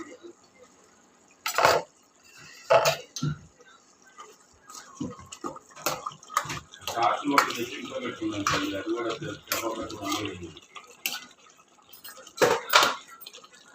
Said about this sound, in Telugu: ఒక 5 నిమిషాల తర్వాత మూత ఓపెన్ చేసి చూద్దాం.